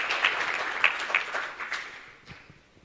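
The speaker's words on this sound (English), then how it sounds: "Better round of applause and make them feel welcome." A round of applause at the launch of an African business accelerator program, a crowd clapping briskly at moderate distance, then thinning out and fading over about three seconds.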